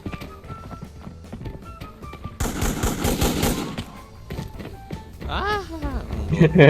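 Machine-gun fire from the video game Arena Breakout: rapid bursts of shots, loud and close, with metallic clanks and whooshing effects, while someone talks over the action.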